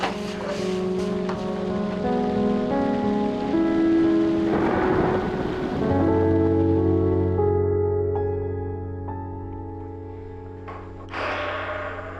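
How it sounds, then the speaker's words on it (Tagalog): Steady rain pours outside with rumbling thunder rolling in midway, a continuous wash of drops on surfaces while tonal music plays alongside. "It's raining outside."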